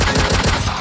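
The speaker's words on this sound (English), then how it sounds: "I want gunshot" Gunshot sound effect dropped into a gangster mixtape, a rapid burst of several loud, closely spaced automatic shots lasting under a second.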